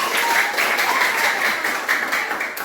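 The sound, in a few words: applause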